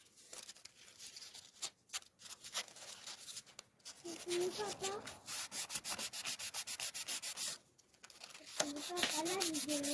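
A folding slip-joint knife is rubbed against 2000 grit sandpaper in a workshop in repeated close strokes, some long and continuous, others short and rasping, while a person's voice is heard faintly at times.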